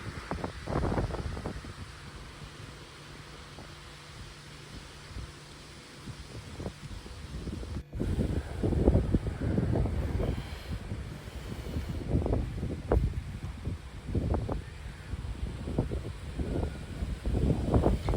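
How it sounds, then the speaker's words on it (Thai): Wind gusts and rain outdoors in Denmark, with buffeting rumbles striking the microphone in uneven bursts, loud and close, building in intensity after a brief lull. "วันนี้ก็ทั้งฝนทั้งลม"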